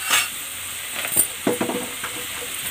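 Garlic, onion and ginger paste sizzles in a pan with a soft, steady hiss, broken by a few near stirring scrapes and light clinks of a utensil.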